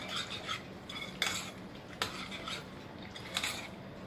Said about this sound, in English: Mix it up really good like this